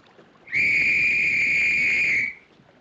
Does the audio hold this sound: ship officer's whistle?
yes